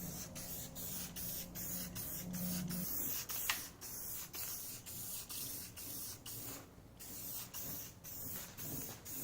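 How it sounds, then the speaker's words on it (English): An aerosol spray paint can coats the inside and outside of a car's front fender, a close, loud hissing spray in repeated bursts separated by short gaps. "we're just going to hit it with some spray paint, just like the rear"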